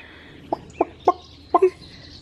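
Backyard chickens give several short, separate clucks, close by and fairly loud over a quiet outdoor background, with no one talking.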